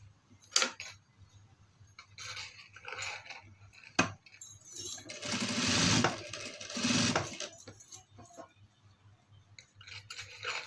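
A sewing machine stitches piping onto a chudidar in two bursts of rapid whirring, the longer one lasting a couple of seconds, set among quiet clicks and fabric handling.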